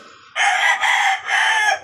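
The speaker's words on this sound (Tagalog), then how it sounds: "Ayan yung mga chicken ko guys." A rooster crows loudly and close by, a long call in two or three bursts, with no talking.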